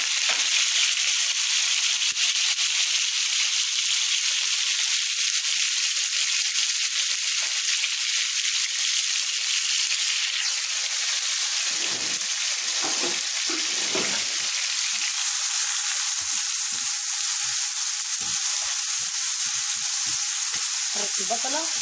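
Onions and chili sizzle steadily in hot oil, a constant loud crackling hiss with occasional soft stirring scrapes underneath.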